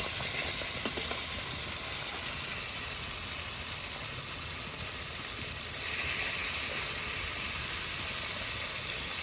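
A little water goes into hot oil in a pan while cooking a vegetarian brinjal dish, raising a loud, steady sizzle and hiss that swells briefly partway through, heard up close with no talking.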